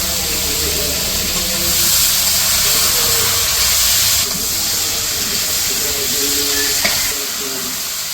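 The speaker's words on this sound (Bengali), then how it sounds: "তো মাছ ভাজার যে অল্প একটু তেল আসছিল, ওই তেলের মধ্যে পটলগুলো দিয়ে দিল। পটল ভেজে নিব।" Steady hiss and sizzle of pointed gourd (potol) frying in a little leftover fish-frying oil in a village kitchen, close and continuous with a few faint clinks.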